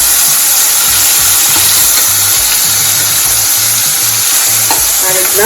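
Garlic, asafoetida and fenugreek seeds fry in hot oil. A loud, dense, continuous sizzle is broken by soft scraping stirs from a spoon, and no one talks.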